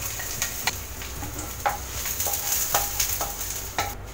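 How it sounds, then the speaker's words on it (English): Onion and garlic sauté in oil in a pan, giving a steady close sizzle with repeated light scraping stirs and small clatters, and no one speaking. "Oil, and then saute the onion and the garlic."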